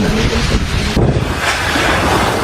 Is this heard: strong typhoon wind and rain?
yes